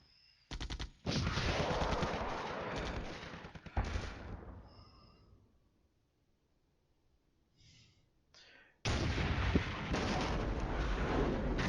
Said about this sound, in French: On se prend toujours de l'artillerie.